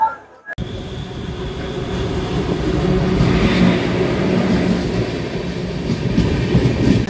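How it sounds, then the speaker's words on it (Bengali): The Saraighat Express pulls into Rampurhat Junction on a rainy evening: after a brief hush, a loud, continuous rumble and clatter of rolling carriages builds and holds steady, with faint voices in the background. "আমাদের ট্রেন প্রায় 1 ঘন্টা 50 মিনিট দেরিতে এই মুহূর্তে ঢুকলো হচ্ছে রামপুরহাট জংশনে"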